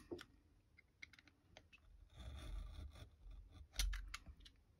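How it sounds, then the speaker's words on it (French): A utility knife cutting paper for a scrapbook pop-up album, heard as soft, close scraping and ticking strokes with small clicks and taps of handling on a quiet tabletop. "je prends mon cutter et je viens couper"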